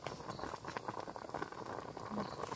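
Water heats to a rolling boil in a pot for steamed rasi sijha pitha, a steady bubbling and seething rumble that fills the whole stretch, close and even.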